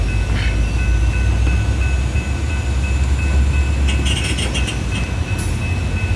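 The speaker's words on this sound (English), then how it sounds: "Nope, it's an ES44AH number 712." ES44AH diesel locomotive number 712 moving and shoving a cut of freight cars in a rail yard, a loud steady engine rumble with sustained metallic wheel squeal tones and a burst of clanking and screeching near the end.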